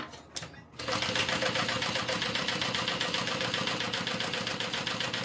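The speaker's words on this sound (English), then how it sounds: "We're going to go ahead and sew this on. I'm going to use a 5 stitch length." A sewing machine runs steadily at a five stitch length, stitching a fabric bag, its rapid rhythmic whir starting after a brief pause and continuing loud and close without talk.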